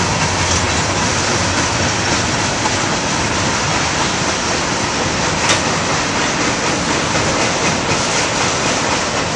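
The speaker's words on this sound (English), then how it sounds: "Oh look, it's a mail train." A long mail train carrying wood rolls past on railroad tracks right beside a home, a steady loud rumble with rhythmic clickety-clack of wagons continuing throughout without a break.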